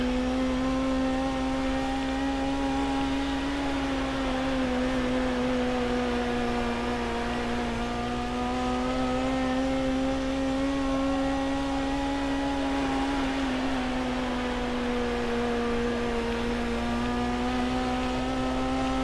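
A midget race car engine drones steadily in World of Outlaws: Dirt Racing during a heat race on a dirt track, a loud sustained whine with gently wavering pitch as the throttle rises and eases, unbroken and with no talk.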